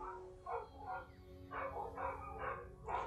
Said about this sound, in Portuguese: Deixa ele latir, cachorro tem que latir.